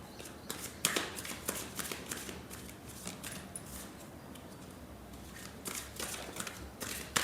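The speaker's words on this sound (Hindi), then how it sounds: "अभी जस्ट ये शफल कर रही हूँ।" Tarot cards being shuffled by hand, a run of soft papery riffles and flicks with short bursts and pauses, close and fairly quiet, no talking.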